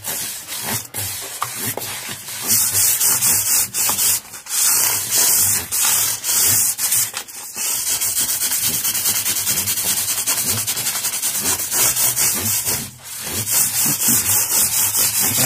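Continuous abrasive rubbing of micro-mesh sanding sheets by hand on a Squier Affinity Stratocaster guitar, with quick back-and-forth strokes, loud and close, occasionally pausing briefly.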